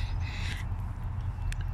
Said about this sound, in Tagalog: Naririnig yung ibon.